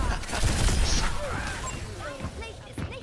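Enemy barrage gunfire in the game Overwatch, a dense burst of rapid shots and impacts that fills the opening second and then thins into scattered blasts, with game effects layered throughout.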